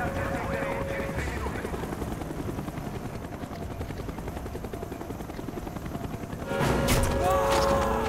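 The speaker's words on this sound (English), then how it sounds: "The chopper is coming around again." A helicopter in Call of Duty: Black Ops circles close overhead with a steady, loud rotor chop, while gunfire and other battle noise run underneath and a voice speaks briefly. Near the end the sound swells as the aircraft passes nearer.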